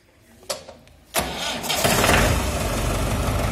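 A 1989 Mahindra 444 tractor engine is self-started: a short starter whir, then it catches with a loud burst and settles into a steady, close running rumble.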